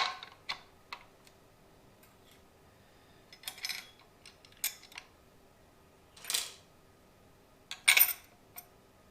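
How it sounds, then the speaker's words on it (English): Metal parts of a KitchenAid mixer grinder attachment are fitted together, giving sparse close clicks, clinks and scraping rattles separated by quiet gaps. "I just have to put the grinder attachment together for the KitchenAid mixer"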